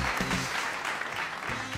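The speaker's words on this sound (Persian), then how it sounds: "تشویق کنید خانم توده پدوی رو" An audience in a television quiz show studio claps, a dense steady wash of applause filling the whole moment, with a few brief voices and musical tones underneath.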